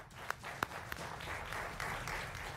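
Studio audience applause greets two guests on a Hindi television election debate, a soft, steady wash of clapping with a few sharper claps standing out early on.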